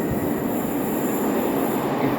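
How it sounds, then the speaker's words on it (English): A train runs through a tunnel, giving a steady, enclosed rumble with a faint high whine above it, continuous and even throughout with no voices. "all you can hear is just one little tiny train noise in the tunnel"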